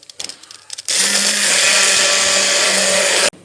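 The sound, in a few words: electric mixer mixing chocolate cake batter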